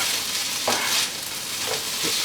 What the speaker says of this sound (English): going to stir the hash a little bit more